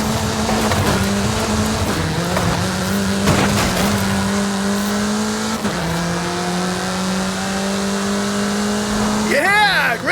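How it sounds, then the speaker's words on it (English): In Forza Horizon 5, a car engine holds a loud, steady drone as the car speeds along, with gear-change dips and a tire squeal near the end. "Get some speed, then turn into the countryside. Really see what this car can do."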